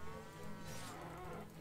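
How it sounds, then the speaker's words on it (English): Cattle moo in the medieval combat video game Mount and Blade Warband, a drawn-out lowing heard alone and fairly quiet. "Where's my cattle?"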